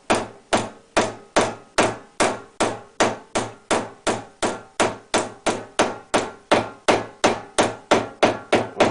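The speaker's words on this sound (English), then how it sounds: "with my cross peen hammer" A cross peen hammer shapes a metal airbox clip against a rubber mallet held in a vise. The strikes come as a steady run of about twenty-five sharp, evenly spaced blows, each ringing briefly, close and loud with no talking.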